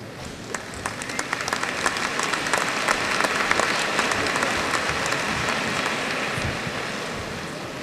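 A graduation audience applauds, dense clapping building over the first seconds and holding as a broad, sustained crowd sound before easing slightly at the end.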